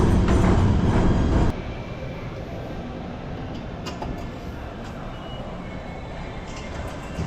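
Steady rumble of a train ride toward New York City, louder for the first second and a half and then a continuous rolling drone from the carriage; no one speaks.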